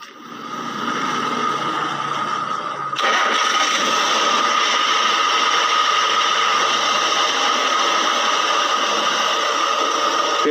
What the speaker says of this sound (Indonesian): lalu kita hidupkan lagi mesin.